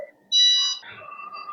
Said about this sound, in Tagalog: Nag-alarm siya, may alarm.